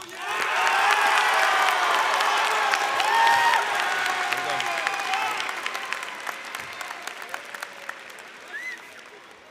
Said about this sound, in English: Please help me with a thunderous round of applause.